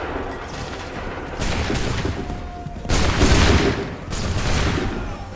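Massed musket volleys crackle in the video game Assassin's Creed 3, several broad bursts of rifle fire rising and falling over a steady battlefield din, fairly loud and close.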